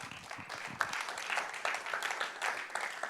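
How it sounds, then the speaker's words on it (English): A conference audience at a blockchain event in Milan applauds a speaker taking the stage, even, moderately distant clapping from a crowd with scattered sharper claps throughout. "So applause to our speaker"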